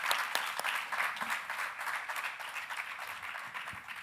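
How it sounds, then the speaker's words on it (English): An audience at a boot camp event bursts into a round of applause, dense and lively clapping from many people close by that stays strong throughout and eases off slightly at the end. "Let's give him a round of applause"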